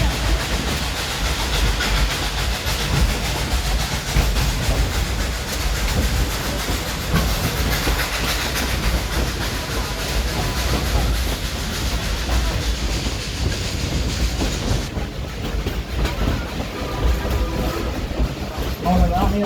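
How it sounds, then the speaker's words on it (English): The Dollywood train engine pulls a train up through the mountains, rumbling and hissing with steady clickety-clack from the cars, heard continuously and close under a voice speaking. "just sit back and listen to the engine as she pulls us up through the mountain."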